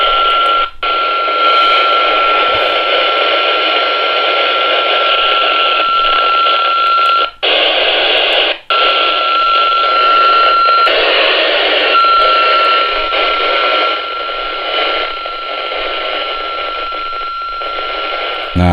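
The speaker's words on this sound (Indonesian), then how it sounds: "Kita buka squelnya." Receiver hiss from a dual-band handheld radio with its squelch opened: loud, steady static rushing on and on, cut by a couple of brief dropouts and a faint steady tone, with no voices.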